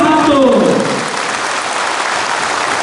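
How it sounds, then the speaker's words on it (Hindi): A large audience claps hard at a political party rally, the thick wash of applause holding steady and loud after a brief voice at the start. "जोर से हाथ दो।"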